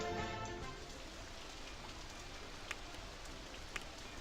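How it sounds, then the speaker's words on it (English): Soft, steady rainfall in the video game Roller Coaster Tycoon 3 hisses throughout, a faint even wash of drops with a couple of brief sharper ticks. "Unfortunately, it's raining"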